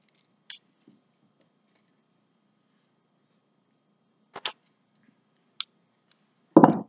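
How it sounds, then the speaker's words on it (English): Short sharp snips of wire cutters trimming florist wire for a boutonniere, a few isolated clicks spaced seconds apart, close and clear in a quiet room, ending in a louder rustle. "So we're going to cut another piece of wire."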